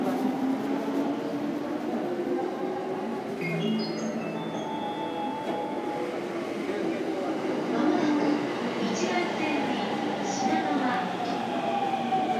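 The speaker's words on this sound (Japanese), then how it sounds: "一番線電車が動いております。" Yamanote Line train moving at the platform of Gotanda station in Tokyo during evening rush hour, a steady rumbling roll under station ambience with faint announcements and chimes over it.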